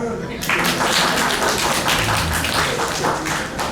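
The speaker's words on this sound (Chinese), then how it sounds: "鼓掌啊！" A burst of clapping starts abruptly and continues as a dense, steady patter of many hands, with voices mixed in underneath.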